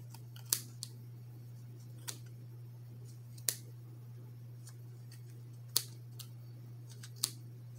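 Scissors snip through yarn in a handful of sharp, isolated cuts spaced irregularly, close by, over a low steady hum.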